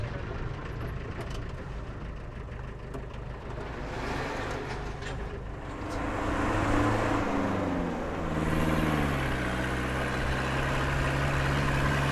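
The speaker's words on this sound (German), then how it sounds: "Oh, LKW." A truck engine drones past on a high Himalayan mountain road, a steady low rumble that swells and shifts pitch as the heavy vehicle goes by close, loud and continuous with no talking.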